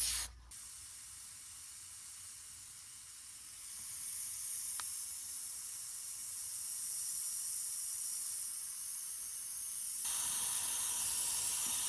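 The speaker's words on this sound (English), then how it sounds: "I want to be able to get in really tight with the airbrush to achieve that type of sharp line" An airbrush sprays paint in a continuous airy hiss that runs steadily for the whole stretch, thickening slightly partway through and again near the end, close and fairly soft, with no voices.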